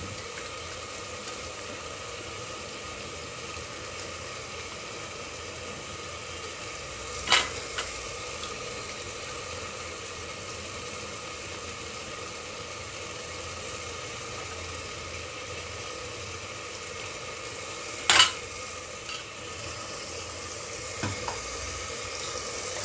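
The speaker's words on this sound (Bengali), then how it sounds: "একটু নাড়া দিয়ে দিচ্ছি" Food frying in a pan gives a soft, steady sizzle, broken by a few brief scraping clinks of a stirring utensil. No one speaks.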